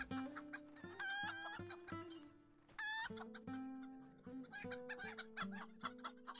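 Chickens cluck in a busy rhythmic series in the video game LOTRO, with a couple of rising squawks standing out, fairly quiet over soft background music.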